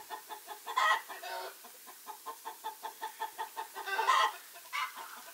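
Hens clucking inside a henhouse in winter, a steady rhythmic series of soft clucks with a couple of louder, drawn-out squawks mixed in, close and fairly quiet.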